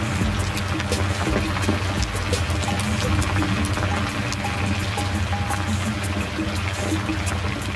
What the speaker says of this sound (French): Ce n'est plus du jus de fruits, c'est déjà du vin. Tout n'est que bouillonnement.